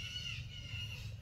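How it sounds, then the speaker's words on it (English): Crows caw in a flock, their harsh calls carrying over a steady low rumble of background noise. "Flock of birds."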